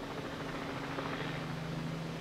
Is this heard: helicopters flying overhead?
yes